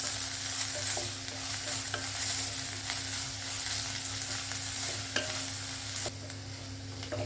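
Chopped onions sautéing in a pan for palak paneer, giving a loud, dense, steady sizzle up close with an occasional faint utensil tap, and no speech.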